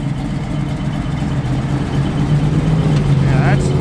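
A 1968 Chevrolet Camaro with what looks like a brand new engine idling nearby, a steady low rumble holding evenly throughout with slight swelling toward the end.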